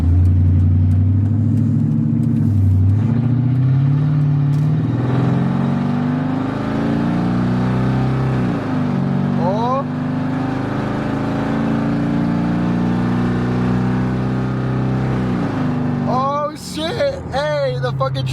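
1999 Mercedes E55 AMG engine running steadily with a deep low drone, its revs rising and dropping as gears shift cleanly, loud and close throughout, with a brief rev spike near the end.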